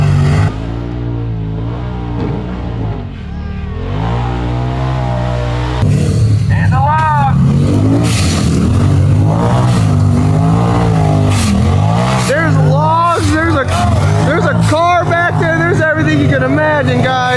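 Turbo R off-road machines rev and race on an extreme bounty and drag course, with loud, fluctuating engine whines rising and falling over and over. Excited crowd chatter and shouting run throughout.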